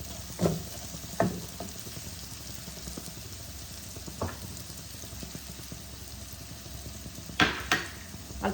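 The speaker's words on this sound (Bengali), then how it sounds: "ভাজা বাদামগুলো দিয়ে একসাথে কষিয়ে নেব।" Roasted peanuts are stir-fried in a pan with a light sweet seasoning, giving a quiet steady sizzle broken by several scraping stirs of the spatula.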